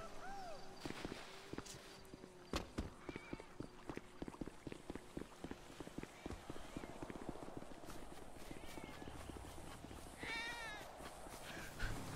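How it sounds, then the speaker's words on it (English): Cat meowing in a GTA V roleplay game, a few faint mews scattered amid a string of sharp clip-clop footstep taps, all quiet and distant. "Why is there a cat running around?"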